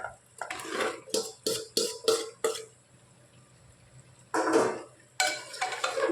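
Fried papaya and potato pieces go into a pot of chicken curry, several sharp clattering, stirring bursts of cookware and ingredients in quick succession, then a pause and two more louder scrapes near the end, with no talking.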